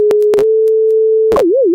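FM synthesizer tone with a triangle-wave modulator at low ratio: a loud, steady pitched drone, interrupted by a few brief bright bursts, bending into a slow wavering wobble near the end.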